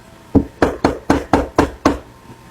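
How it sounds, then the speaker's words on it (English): Seven sharp knocks on a door, evenly spaced, loud and close, with no voices over them. "There's a knock on the door."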